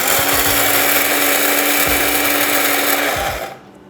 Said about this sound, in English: always use peppercorn, and then we grind it fresh